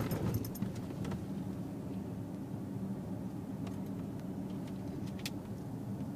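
A car drives through a small town, its engine and road noise a steady low rumble heard from inside, with faint rattles and no talking.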